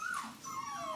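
Puppies whimper in a brief, close, high-pitched whine that slides down and then rises again into a thin, drawn-out cry.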